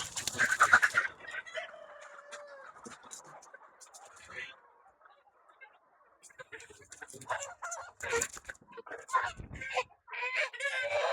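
Hens cluck and a rooster crows on a poultry breeding farm, a close crow early followed by scattered clucking and bursts of flock noise, with a person talking over parts of it.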